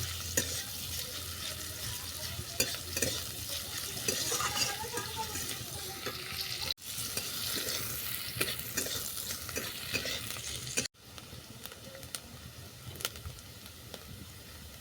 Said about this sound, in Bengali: চলো পেঁয়াজগুলো বাদামি করে ভেজে নিচ্ছি